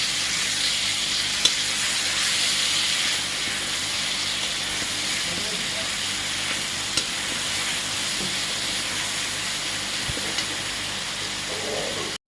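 Ground garlic and chili paste fries in a pan with a steady, close hiss and sizzle that runs unbroken for the whole stretch, with a few faint clinks and no clear talk.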